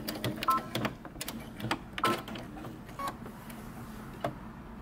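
A sewing machine backstitches at the end of a men's fitted shirt seam, giving short irregular bursts of clicking and mechanical whirring separated by brief pauses, close and fairly quiet.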